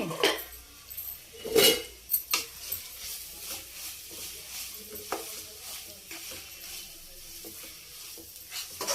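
Curry leaves crackle and sizzle in a hot pan while a utensil stirs, with sharp metallic scrapes and clinks up close over a steady frying hiss.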